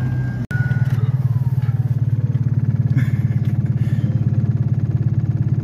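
Two small moped cars with little engines drive together, a steady loud droning hum running throughout at close range, with a sharp click near the start.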